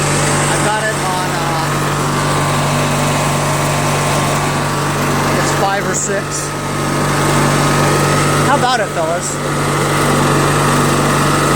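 A Craftsman LT1000 lawn tractor repowered with a Briggs opposed twin engine runs smoothly and steadily up close, a constant loud drone with a firm low hum, while someone talks over it.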